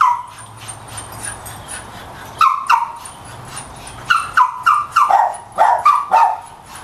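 A small Yorkie barks and whimpers up close, with soft whining early on and then bursts of sharp yips and barks that grow louder and more frequent toward the end.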